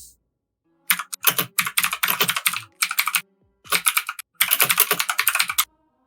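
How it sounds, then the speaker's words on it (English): Rapid clacking of computer keys in several quick bursts separated by short pauses, close and fairly loud, with no talking over it, heard during a gaming podcast. "Oh, he's typing."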